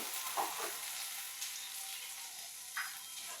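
A ground spice paste fries quietly in a pan, giving a soft, even sizzle with a few gentle stirring scrapes spaced across the clip.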